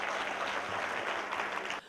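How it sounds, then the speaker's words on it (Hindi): Crowd of soldiers and guests at an outdoor BSF border show applauding, a thick, continuous burst of clapping that stops abruptly after under two seconds. "जोरदार तालियां ईटीवी के लिए।"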